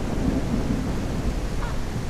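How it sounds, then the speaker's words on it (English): A thunderstorm with rain in the farming video game Ranch Sim, a dense, steady rumble and hiss of rainfall with low thunder rolling throughout, fairly loud and with no voice over it. "Oh shit, it's a thunderstorm."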